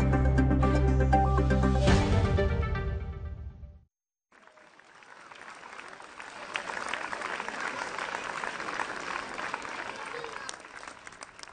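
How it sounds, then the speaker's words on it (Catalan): Teachers and students applaud in the courtyard of the Escola de les Providències de Vilanova as Mother Montserrat is welcomed. After a short tonal passage and a brief silence, steady, dense clapping carries on for about seven seconds. "la mare Montserrat era rebuda entre aplaudiments de professors i alumnes al pati de l'Escola de les Providències de Vilanova"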